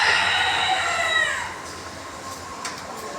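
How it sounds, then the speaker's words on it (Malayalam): Chickens, including white broiler chickens, kept at a small roadside poultry shop beside a tea stall, with a loud rooster-like crow drawn out over the first second and a half, then fading into quieter shop ambience with faint clucks. "നാട്ടിലെ കോഴിക്കട പോലെ കോഴികളൊക്കെ ഉണ്ട്"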